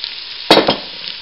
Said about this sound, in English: we're going to go ahead and throw down the oxtail and the ham hock